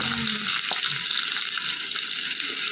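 Green chillies and onion frying in hot oil in a pan, a loud, steady hiss of sizzling that continues throughout, with faint stirring scrapes and no talking.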